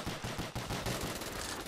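Dual-wielded CZ pistols fire in Black Ops 3 zombies, a loud rapid stream of closely spaced shots with no pause.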